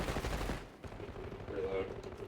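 Shotgun fired from the hip in Call of Duty: Modern Warfare III: a loud opening burst of blasts, then a quieter stretch of game noise with a faint whirring tone.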